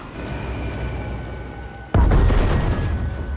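A bomb strikes its target in a spy-themed game: a low hum of flight gives way to a sudden deep, loud boom that rumbles on heavily for over a second.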